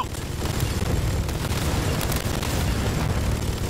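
A grenade blast in a video game, a heavy, rumbling boom that fills the whole moment with dense low roar and debris noise, loud and close throughout.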